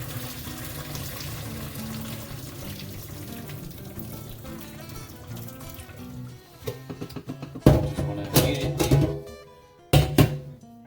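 Farfalle pasta water sloshes and pours out of a pot in splashing bursts, close by, after a stretch of steady running background noise.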